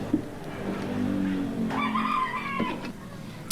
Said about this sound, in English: That boy got chickens and roosters and everything.